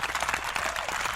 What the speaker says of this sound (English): How about a huge round of applause for them?